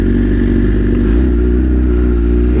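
A 2024 BMW S1000RR motorcycle engine runs loud and close at steady revs, its low, dense rumble holding throughout with a slight shift in pitch partway through.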